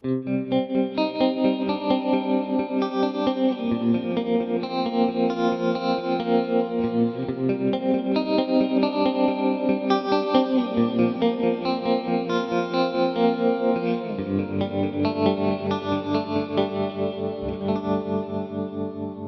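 Guitar played through a Mooer mini-modeller on the Frozen Angel preset, a shimmering chorus-laden, lightly driven tone with echo, sounding steady chords and melodic notes that ring together at a constant moderate level.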